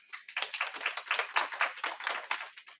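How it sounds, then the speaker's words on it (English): A small audience at a UN Commission on the Status of Women session claps in a light, uneven patter of separate hand strikes, fairly quiet and without voices. "Please let's clap for her."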